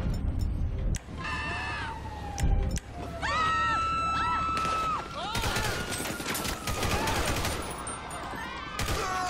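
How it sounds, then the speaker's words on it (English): Gunfire in GTA 5 with the LSPDFR police mod during a street crossfire: sharp shots and bursts ring out amid wailing sirens and screams, loud and dense throughout. "people are being shot at"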